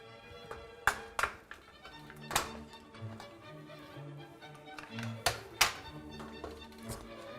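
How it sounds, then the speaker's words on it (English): A screwdriver pries an old plastic rack adjuster off a dishwasher, producing a series of quiet, sharp taps and clicks spaced irregularly over a soft background. "Start that off by putting in a screwdriver here and pry that off"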